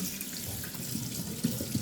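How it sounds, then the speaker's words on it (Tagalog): Tap water runs steadily into a kitchen sink while vegetables are rinsed, a continuous close splashing stream with small bumps of water hitting produce. "hugasan natin itong para Ibabad ko yung gulay dito"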